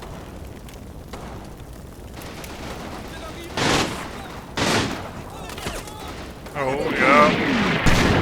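Artillery shells land on an infantry squad in the World War II strategy game Combat Mission, and several heavy blasts and rumbling impacts come in separate bursts that grow denser toward the end, while a voice speaks briefly.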